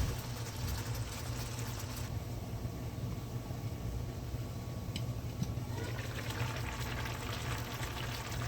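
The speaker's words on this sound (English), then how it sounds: "I'm gonna just go ahead and add um, the diced tomatoes and the juice into our onions and peppers and wine" Diced tomatoes and their juice pour steadily into a pan of onions, peppers and wine, a continuous close liquid rush that runs unbroken for several seconds.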